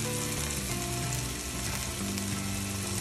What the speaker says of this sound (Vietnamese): cho nó thơm, mình xèo nhân cho nó thơm.